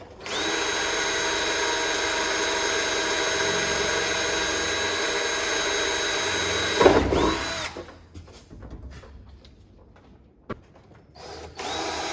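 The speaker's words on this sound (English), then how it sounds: "And my really dull drill bit." A loud power drill with a dull bit whirs steadily for several seconds, then cuts off, leaving quieter scattered clatter and a brief restart near the end.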